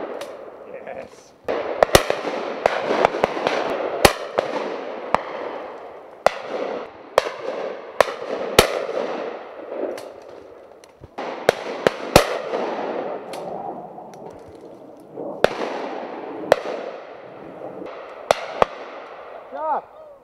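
Shotguns fire during a game shoot, giving repeated sharp bangs, some close and some farther off, spread irregularly through the scene. People talk and call out in between the shots.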